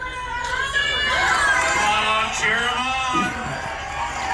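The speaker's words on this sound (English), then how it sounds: "Sounds like everybody's cheering for Lindsay." A crowd whoops and cheers loudly, the excited voices swelling and then tapering off, with scattered shouts.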